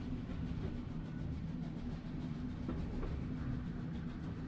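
Steady rumbling of a train car in the video game The Room 3, a low continuous rolling drone with faint rhythmic clatter, alone and fairly quiet throughout.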